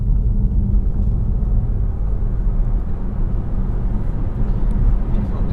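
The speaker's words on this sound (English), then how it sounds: "Good excuse to accelerate again." A BMW i3 electric car accelerating on the road, heard from inside as a steady, loud low-frequency rumble of tyres and road noise with little motor whine, continuous without breaks or voices.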